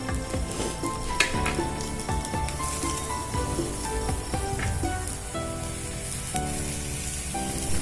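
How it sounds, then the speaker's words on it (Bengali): Chopped onions fry with mashed potato in a pan for a bread pakora filling, giving a steady, crackling sizzle throughout, with faint tonal sounds in the background and no talking. "এবারে পেঁয়াজটা দেওয়ার পর আমরা খুব বেশিক্ষণ ভাজবো না, 2 মিনিট মতো ভেজে তারপর আমরা গ্যাসটা অফ করে দেব"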